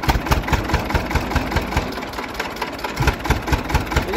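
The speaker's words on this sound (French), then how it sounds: "on a des moteurs qui démarrent au quart de tour" An old engine idles just after starting, a loud, close, rough mechanical chugging with a steady rapid pulse throughout.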